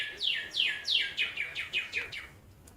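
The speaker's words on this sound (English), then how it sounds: "Birds are happy out here." Small birds chirp outdoors at a college baseball game, a quick run of about eight bright descending tweets in steady rhythm, close and clear over faint background ambience.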